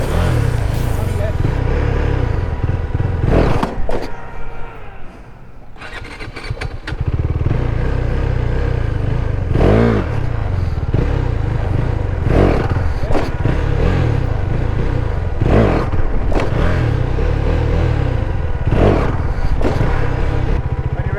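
A motorcycle engine revs loud and close during wheelie practice, the throttle rising and falling in repeated pulses, dipping to a quieter idle midway before building again, with a voice coaching over the engine.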